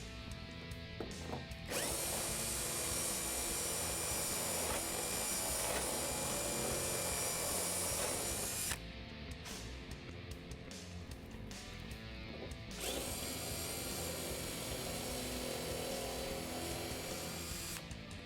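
Power drill enlarging a hole for a hood pin on a 1965-1973 Ford Mustang hood, a loud close whine that runs almost continuously in two long bursts with a brief dip between them.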